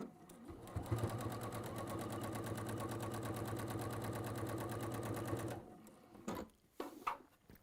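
A sewing machine stitches fabric with contrast thread in a fast, steady whirring run for about five seconds, then stops, followed by a few soft handling clicks and thumps.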